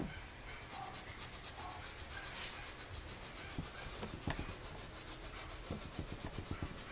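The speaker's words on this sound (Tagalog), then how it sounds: "Tsaka natin kukuskusin na parang nagtututbrush lang tayo" Brush scrubbing dirty light-colored shoes, a close rapid back-and-forth bristle rasp repeating in a steady rhythm throughout, with a few sharper taps near the end.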